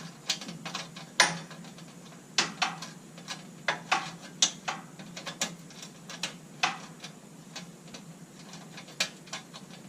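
A hand ratchet wrench clicks in short bursts as bolts are loosened during a 212 engine install on a go-kart frame, sharp ratcheting ticks recurring irregularly at close range with faint rain in the background.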